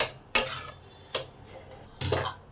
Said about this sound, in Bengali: চিনিটাকে ভালো করে মোচার মধ্যে মিশিয়ে দিই